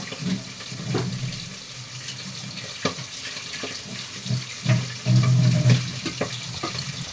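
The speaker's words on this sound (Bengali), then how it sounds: "এর মধ্যে একটু আমি অল্প একটু জল দিয়ে দেবো অল্প একটু জল দিয়ে ভালো করে আমি মশলাটাকে ভেজে নেব" A small splash of water is poured into a frying mustard spice paste in a pan, bursts of hissing sizzle and trickling mixed with spoon scrapes and knocks, close up with no talk.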